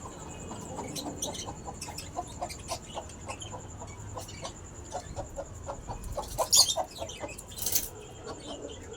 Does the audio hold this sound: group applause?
no